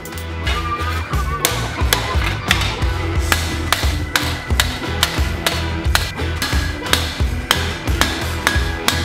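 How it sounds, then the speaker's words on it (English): Rapid, repeated hammer blows bending steel into a tube, a steady rhythm of sharp clanging strikes, close and loud, with faint talk underneath. "I'm spreading out my hammer blows and passes to get the steel into the shape of a tube"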